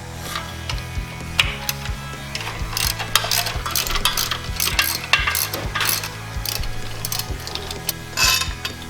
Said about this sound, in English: the mounting bracket here will come off by removing this bolt down here